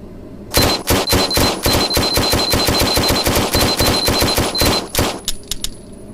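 Rapid bursts of gunfire on a Range Day VR shooting range game, dozens of sharp, loud shots in quick succession for about five seconds with a high ringing tone running under them, then a few scattered final shots.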